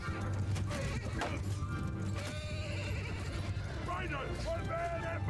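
Horses whinny and hooves pound during a battle in Mount & Blade II: Bannerlord, a dense, loud din of neighs and galloping mixed with clashing noise, with someone talking over it.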